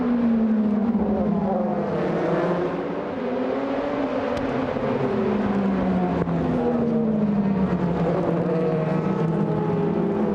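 DTM touring race cars from 2007 roar around Brands Hatch, a continuous loud engine drone with pitch swooping up and down as cars rise through gears and pass, several engines overlapping at a steady distance.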